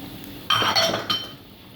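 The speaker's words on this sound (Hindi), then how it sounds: "इसमें डालेंगे चीनी आधी प्याली" Sugar pours into a pan of bread halwa with a single clinking, rattling burst of grains striking the metal. It lasts under a second, then fades into a quieter tail. No one speaks.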